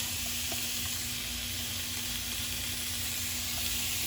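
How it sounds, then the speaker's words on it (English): Steady, dense sizzling of a burger patty frying on a hot grill, a constant loud hiss with faint pops, no voices. "while that is sizzling away"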